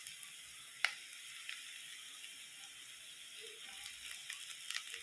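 Bharangi, a wild Konkan forest vegetable, is added to hot tempering in a kitchen, giving a soft, steady sizzle with a few small clicks and pops. It is quiet throughout, with no talk.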